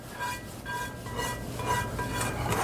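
A spatula scrapes olive oil and leftover sauce from a pan after making pasta with sausage, rapini and peppers, giving a steady close scratchy metallic rubbing with light clinks over the whole stretch, no talk.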